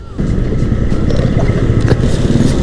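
Honda Vario scooter with a lowered KTC rear shock being ridden, a steady close engine drone with road and wind rumble running continuously throughout.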